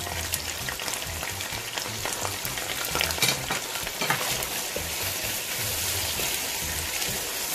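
Chicken frying in a pan with ginger garlic paste for a dhaba-style chicken karahi, a steady, loud sizzle with crackling spatters and occasional stirring scrapes throughout.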